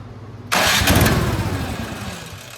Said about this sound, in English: So we got it on full choke, and it should start relatively quick.